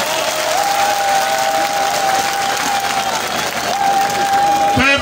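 A big crowd applauds and cheers at a campaign rally in a stadium, a loud continuous roar of clapping with a sustained whistle-like tone running through it.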